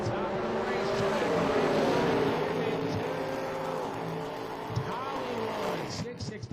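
Drag race cars launch down the racetrack at an IHRA Pro Am event, a loud sustained engine roar that slowly fades, with an announcer talking over it.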